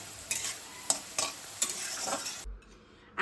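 Potatoes frying in a pan and being stirred, with several distinct scraping strokes over a steady close sizzle that cuts off near the end.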